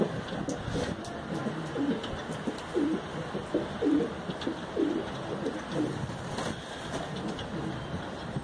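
Pigeons cooing on a rooftop, a run of soft, low rounded coos repeating through the middle of the clip amid steady outdoor background noise, with faint distant ambience.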